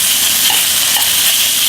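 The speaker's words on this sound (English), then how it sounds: "We have chicken, we floured it, we're sauteing it in oil" Floured chicken sautéing in oil in a pan gives a steady, close, loud sizzle with a broad hiss that holds evenly throughout, with no voices.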